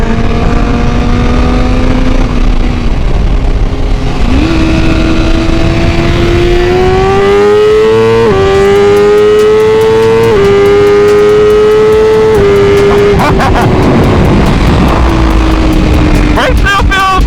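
A BMW HP4 sport motorcycle engine revs hard nearby, its pitch climbing through several gear changes, with wind rush and brief shifts between pulls.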